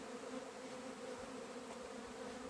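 Honeybees buzz steadily at a beekeeper's apiary, a dense, continuous droning hum, close and loud, with no talking.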